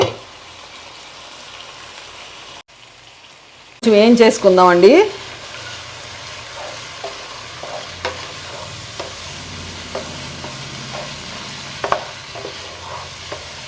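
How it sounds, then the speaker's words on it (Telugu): Ground ginger-garlic paste with coriander, cumin and poppy seeds frying in a pan for a prawn and okra stew, a continuous sizzle with repeated stirring clicks after a brief quiet start, with a voice speaking briefly. "పచ్చివాసన పోయే వరకు వేయించుదాము"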